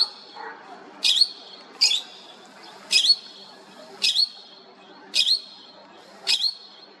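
A bright yellow parrot with white stripes squawks outdoors in a courtyard in Kharkiv, giving six loud, evenly spaced shrill calls about a second apart over quiet background.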